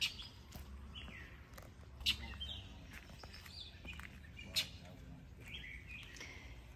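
Faint bird chirps and tweets scattered across an outdoor background near grain plants grown in containers, with a soft murmur of voice underneath, distant and quiet.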